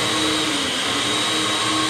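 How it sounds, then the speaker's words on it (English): A blender whirs steadily through a thick mix of frozen crushed pineapple and pineapple juice for a Dole Whip-style treat, a loud continuous motor drone with no talking. "I'm just going to put the top on and go ahead and blend this up in the blender"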